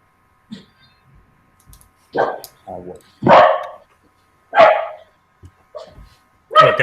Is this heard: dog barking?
yes